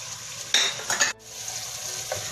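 Masala of red chili, turmeric and roasted garam masala cooking in a pan for curry pakora, with a soft sizzle and a couple of short spoon scrapes against the pot and no voices.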